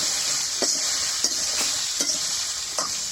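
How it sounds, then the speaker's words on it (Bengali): A spatula stirs bottle gourd with turmeric and salt in a hot pan over a constant bright sizzle, with about five evenly spaced scrapes, close up and without voices. "খুন্তি দিয়ে সুন্দরভাবে একটু নাড়িয়ে নিই"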